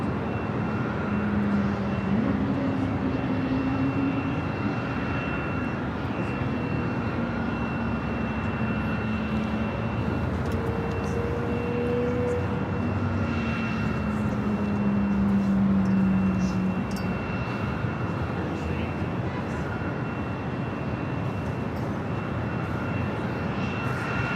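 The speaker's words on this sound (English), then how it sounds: "Looks like we have Aer Lingus taking off for Dublin on the south side, rolling down 25 right." An Aer Lingus airliner bound for Dublin rolls down runway 25 right at Los Angeles International Airport, its jet engines roaring steadily from a distance for the whole stretch.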